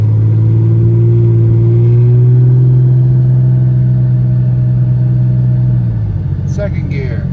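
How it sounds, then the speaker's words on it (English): A 2001 Porsche 911 GT3 tribute car pulls hard in first gear, its loud engine note climbing steadily for several seconds before easing off as the revs drop. "Foot's back on the gas. Here we go. First gear."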